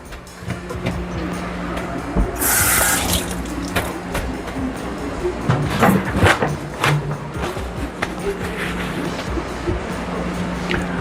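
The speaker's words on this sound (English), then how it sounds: "Wash out my hand." Hands being washed under a running kitchen tap while Jamaican-style Thanksgiving food is prepared; water splashes steadily, with a louder gush near the start, and faint clattering can be heard in the background.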